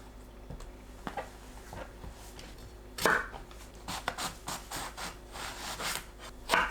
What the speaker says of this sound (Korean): 가지는 양 끝을 손질하고 길게 반으로 가릅니다.